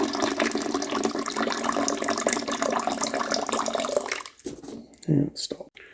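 Water rushes through an Avalon bottom-loading water cooler during a rinse, a loud continuous gushing flow for about four seconds that then breaks into short sputtering bursts and trickles as it stops.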